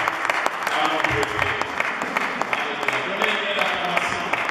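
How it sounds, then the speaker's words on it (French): A church congregation at a French-language worship service claps together, a dense steady applause with a low voice running under it throughout. "nous pouvons lui donner une acclamation à notre Dieu"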